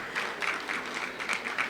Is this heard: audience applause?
yes